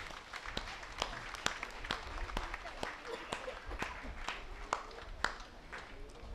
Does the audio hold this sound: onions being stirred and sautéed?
no